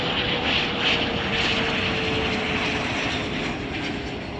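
Airplane flying near Chicago O'Hare airport, banking over downtown: a continuous loud broadband engine roar with a steady tonal whine, constant throughout.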